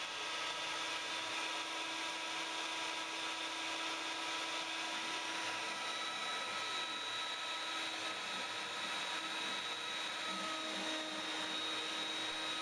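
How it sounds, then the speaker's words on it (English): CNC router with a 90-degree V cutter engraving letters into a 12mm MDF sign, a steady continuous machine whine with spindle hum that holds at an even level throughout, with no voices. "I start by engraving the words fake wood into a piece of 12mm MDF."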